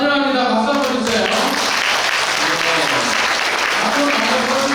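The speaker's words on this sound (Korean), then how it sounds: "박수 한번 주세요." A church congregation at a revival meeting for a blind congregation applauds steadily to welcome visiting members, a dense, sustained wash of clapping with some voices mixed in throughout.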